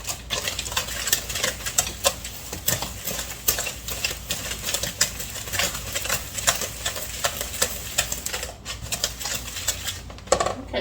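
Brown sugar and about half a teaspoon of salt whisked together in a bowl for a no-bake cheesecake, a steady, busy scraping and tapping that runs throughout at close range with no talking.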